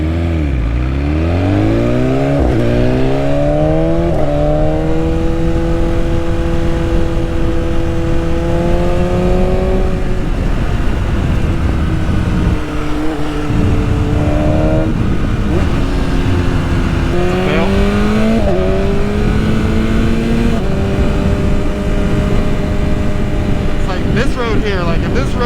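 A BMW S1000RR sport motorcycle engine, recorded while riding, climbs in pitch through gears, drops on shifts and revs again, loud and close with steady wind rush.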